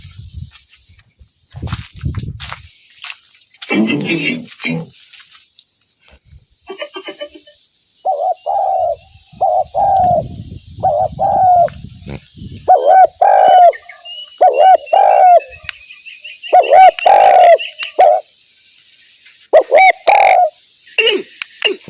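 Birds call repeatedly near a hunting hide in Thai countryside, drawn by calls played from a loudspeaker; pigeon- or dove-like coos and chirps come in bursts, fairly close and loud, with brief pauses between phrases.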